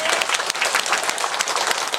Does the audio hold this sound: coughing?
no